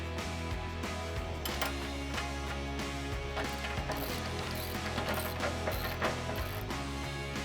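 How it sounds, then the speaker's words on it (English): A 3/4-inch ratchet wrench and socket tightening the caster nuts on a steel sport assembly, rapid clicking pawl ratchets in repeated bursts, close and clear with no talking. "we can go ahead and tighten up the caster nuts"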